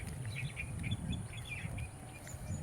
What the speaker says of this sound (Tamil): அந்த குருவி எல்லாம் கத்துற சவுண்டு